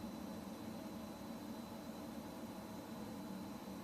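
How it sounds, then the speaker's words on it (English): Distant jet airplanes in Microsoft Flight Simulator 2024 near RAF Valley, heard as a faint, steady broadband roar with a constant high whine and no speech. "I can hear some planes somewhere."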